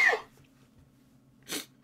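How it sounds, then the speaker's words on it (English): A close, sharp sneeze bursts out at the start, followed after a quiet pause by a second softer sneeze-like burst, against a low steady hum. "I'm gonna sneeze."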